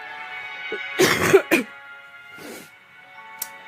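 A few harsh, breathy coughs close up, two bursts back to back, then a softer one and a brief click, over a faint steady background hum.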